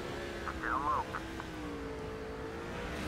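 A race car spins out in the Nascar 07 video game, its engine whining and sweeping up and down in pitch over a steady drone, with a person talking over it.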